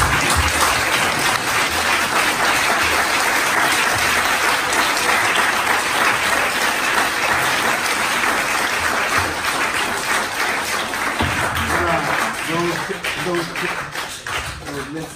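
An audience at the Théâtre de l'Odéon in Paris applauds after a theatre reading. The clapping is loud and sustained, forming a thick, continuous wash that thins slightly near the end.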